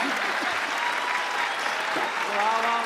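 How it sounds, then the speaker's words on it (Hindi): Audience applause at a Hindi comedy poetry recital in Dubai, a dense, steady patter of many hands clapping throughout, with faint voices mixed in underneath. "ताली बजा दो।"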